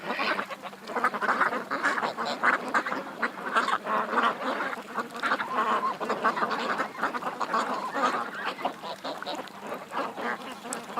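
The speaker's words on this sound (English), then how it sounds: "Oh, that duck just did a dunk there." Ducks quack repeatedly on open water, a dense, continuous chorus of calls at moderate distance with steady background ambience and no talking.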